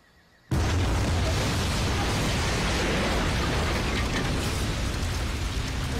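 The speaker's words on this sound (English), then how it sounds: "This explosion is going to attract their attention." An explosion from the TV series Lost bursts in suddenly after a quiet moment and holds as a loud, sustained, broadband rumble and roar.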